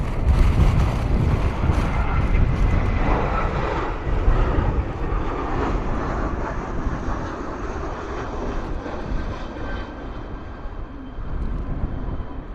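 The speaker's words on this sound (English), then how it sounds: "that EasyJet coming in high as well" An easyJet airliner approaching Bristol Airport to land gives a broad, steady jet roar that fades slowly as it passes, mixed with gusty wind buffeting the microphone outdoors, with no talking.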